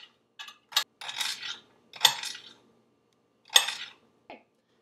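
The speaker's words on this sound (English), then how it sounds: "you're just slowly going to chop little pieces all the way down the celery" A knife chopping celery into little pieces on a board, with about half a dozen irregular, crisp cuts close by in an otherwise quiet room.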